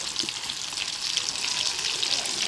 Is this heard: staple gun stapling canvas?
no